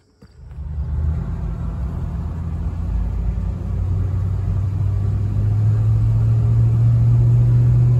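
A 1967 Ford Fairlane convertible engine cranks and catches, then settles into a steady, smooth low idle rumble heard up close.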